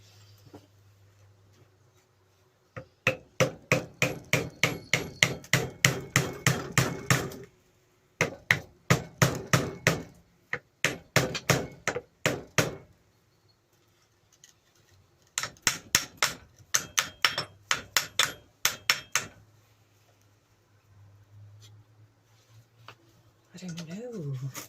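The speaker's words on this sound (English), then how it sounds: "I use a little hammer, not a big hammer." A small hammer strikes metal beside a grinder in rapid bursts of sharp, evenly spaced taps, loud and close, with short pauses between runs and a low hum in the background.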